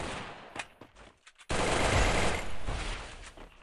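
Rapid automatic gunfire from a shooter video game, a few scattered shots followed by a sustained loud burst of continuous fire, close and dense with no talking over it.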